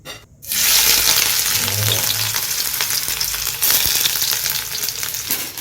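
Fish frying in hot mustard oil in a home kitchen, a loud continuous sizzle with crackling spits after a brief quiet start, and no voices.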